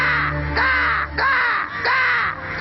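A man imitates crow caws, giving three loud, close, nasal cawing calls in an even rhythm with short pauses between them.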